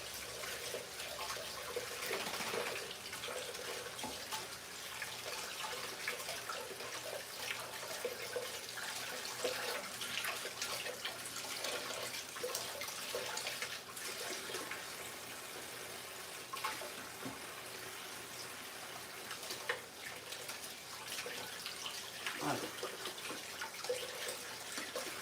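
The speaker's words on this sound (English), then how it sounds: "Let me wash my hands." Tap water runs steadily from a faucet into a sink while hands are washed during empanada preparation in a home kitchen, a continuous close splashing wash with faint clattering at times and no talking.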